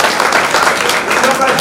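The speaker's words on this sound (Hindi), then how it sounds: "तालियां बजा करके उन दोनों का स्वागत करना चाहिए हमें।" An audience at a village community programme claps to welcome two guests, a continuous crowded patter of hands with a voice speaking over it.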